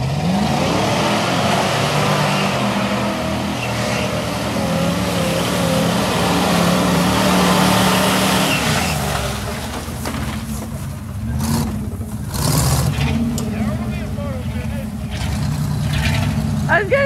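A mud truck's engine revs hard while racing through a mud pit, a loud, sustained roar with rising and falling pitch and bursts of splashing and rattling.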